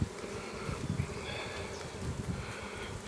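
Honeybees from a hive yielding forest honey buzz steadily around a lifted comb frame, a close, continuous drone with faint rustling and no talk.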